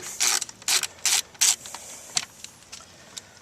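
A hand ratchet backs out 7mm bolts holding the front Bose amplifier of a Cadillac Eldorado: four quick, loud ratcheting bursts in a row, then a few softer, scattered clicks nearby.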